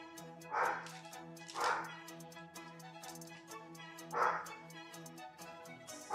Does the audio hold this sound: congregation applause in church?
no